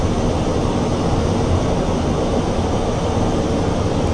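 Steady, loud jet engine roar with a broad rumbling low end, a flight simulator jet spooling up as it begins to creep forward and taxi, no talk over it.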